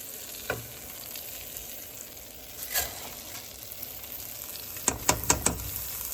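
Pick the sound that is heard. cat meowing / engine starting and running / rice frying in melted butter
rice frying in melted butter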